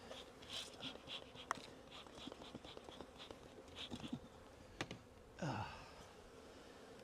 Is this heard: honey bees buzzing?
yes